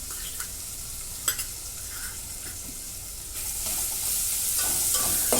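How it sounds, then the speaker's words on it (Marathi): A paste of garlic, coconut and coriander hits a pan after asafoetida and garlic have browned, giving a steady sizzle that swells louder toward the end, with a few sharp clicks of a spoon stirring it. "दोन मिनटं परतून घेते"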